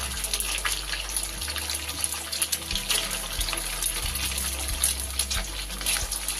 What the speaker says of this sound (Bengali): এবার আমি কোপ্তাগুলো একটা একটা করে তেলের মধ্যে ডিপ ফ্রাই করে নেব।